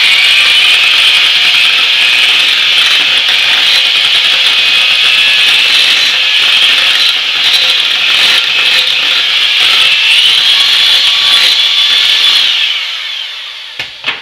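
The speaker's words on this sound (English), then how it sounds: "you obviously want to scrape the sides down to get all of the lovely cheese" A loud, continuous scraping and rubbing as a utensil scrapes cream cheese sauce from the sides of a bowl, fading out at the end.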